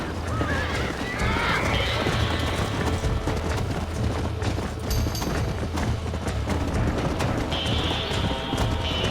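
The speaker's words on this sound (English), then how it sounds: "Hey, the stallion's getting away! Chase him down and bring him back!" A stallion in Red Dead Redemption gallops with rapid clip-clop hoofbeats, loud and continuous, while whinnies and neighs cut through twice amid busy game ambience.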